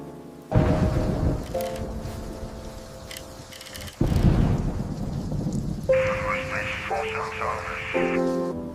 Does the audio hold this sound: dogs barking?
no